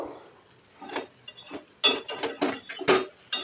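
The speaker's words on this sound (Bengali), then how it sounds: "এরপর আরও ভালো করে নেড়ে চেড়ে কষে নেব।" A utensil stirs chili-spiced lotte fish (Bombay duck) in a pan, giving scattered metallic clinks and scrapes that grow louder and busier toward the end, with no voices.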